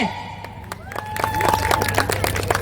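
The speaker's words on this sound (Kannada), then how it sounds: "ಜೋರಾದ ಚಪ್ಪಾಳೆ" At the Sirsi Utsav 2025 stage festival, a crowd claps and cheers for a singer as she comes on to perform a medley. The clapping swells over a murmur of voices and a faint tone.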